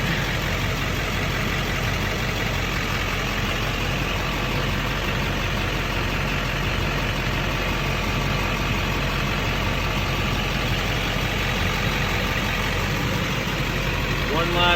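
Duramax diesel truck engine idling steadily in neutral, a constant low rumble that stays even and unbroken throughout.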